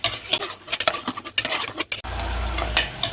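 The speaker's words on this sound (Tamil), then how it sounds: "இதை இப்போ நல்லா இந்த எண்ணெயிலே நல்லா வதக்கிப்போம்" Beef chunks sautéing in hot oil for a beef chukka, with steady sizzling, repeated stirring and utensil scrapes against the pan, continuing loud and close without talk.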